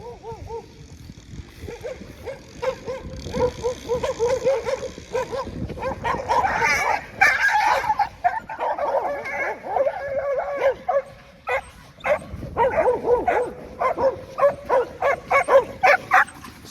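Hunting dogs bark, yip and whimper in a long run of repeated, uneven bursts, sometimes near and loud, with a person talking between and over them.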